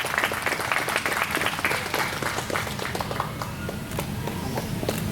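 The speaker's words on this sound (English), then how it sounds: "Yes, please give a big round of applause." A live audience applauds at an official launch ceremony for a farm partnership certification, producing a dense, sustained clatter of many hands clapping throughout, close and fairly loud.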